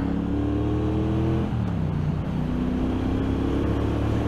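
A Triumph Bonneville Bobber motorcycle engine pulling hard after a shift into second gear, a steady loud drone whose pitch dips at the change and then climbs again, close and continuous.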